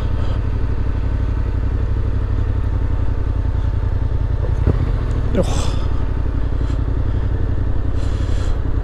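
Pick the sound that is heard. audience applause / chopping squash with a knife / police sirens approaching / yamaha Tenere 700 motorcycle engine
yamaha Tenere 700 motorcycle engine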